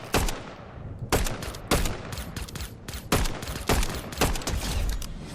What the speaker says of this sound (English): I'm using my silencer.